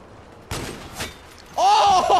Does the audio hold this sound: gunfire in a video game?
yes